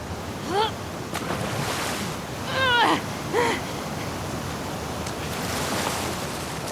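Rushing water current with surf-like wash in a swimming section of The Last of Us Part II as Ellie heads toward the aquarium, a steady broadband roar with a few brief gull-like cries and splashy accents over it.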